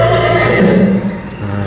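A headless horseman prop in a haunted house at i-City Shah Alam lets out a single loud, close horse neigh that wavers and fades over about a second.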